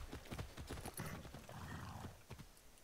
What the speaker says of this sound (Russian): Смотри, я сейчас ничего не делаю, он сам скачет.